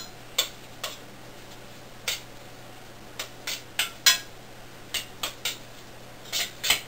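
Pasta with pesto being stirred in a pan, with a utensil tapping and scraping in about fifteen sharp, separate clicks at an uneven pace, close and moderately loud, with no one talking.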